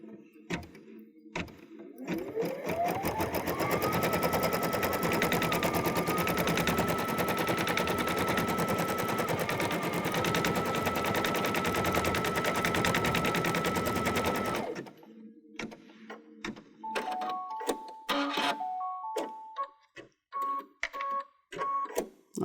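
A Baby Lock Pathfinder embroidery machine stitching fabric on a baby onesie hums and chatters loudly and steadily for about twelve seconds, then stops, leaving scattered clicks and brief beeps.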